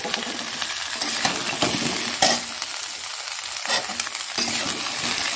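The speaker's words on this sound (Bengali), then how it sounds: "আলুটা আর কড়াইশুঁটিটা দিয়ে দিচ্ছি।" Potatoes and peas sizzle and fry in a thin kadai, a steady close hiss broken by occasional stirring scrapes, with no voices.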